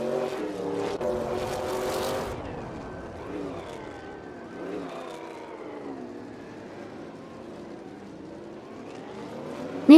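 A 1957 Chevrolet Bel Air D.L. race car engine in a racing game, a moderate droning hum with shifting pitch that rises and falls over about ten seconds, heavier at first and then settling lower.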